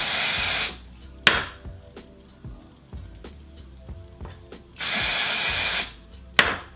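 Two long hissing bursts of aerosol dry shampoo spray, loud and close, separated by quieter clicks and handling noises.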